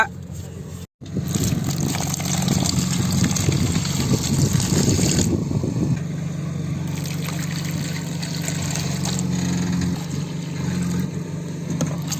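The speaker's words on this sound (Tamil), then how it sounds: "இப்போதான் லைட்டாக வந்து கொதி வந்துட்டு இருக்குது" Steady bubbling and hissing of water with sarsaparilla root heating in a pot, a continuous close simmer that swells briefly before settling to a gentler churn.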